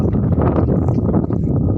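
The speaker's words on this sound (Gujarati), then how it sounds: "પવન મસ્ત ઠંડો ઠંડો આવે" Steady, loud wind buffeting the microphone outdoors, a continuous low rushing roar with no voices.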